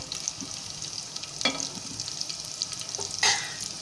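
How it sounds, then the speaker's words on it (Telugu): Chana dal frying in a pan, a steady close sizzle with a few scraping stirs of a spatula and occasional clinks, no talking. "శనగపప్పు కాస్త వేగిందండి."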